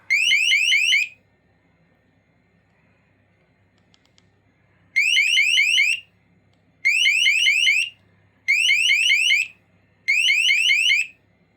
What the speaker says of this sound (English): This one will beep the alarm if you want, and then SOS.